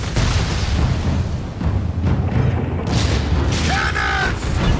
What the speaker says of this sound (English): Cannons! Brace yourselves!